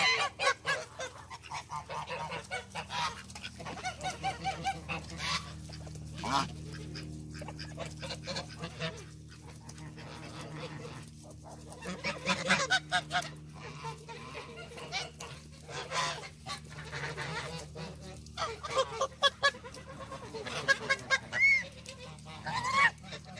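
Geese on a farm honk loudly and repeatedly in bursts, several birds calling over one another close by, with short quieter gaps between outbursts.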